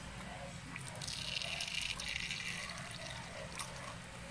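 Water trickles and splashes steadily for several seconds as it is poured into a tarantula enclosure, a soft continuous liquid sound with no talking over it.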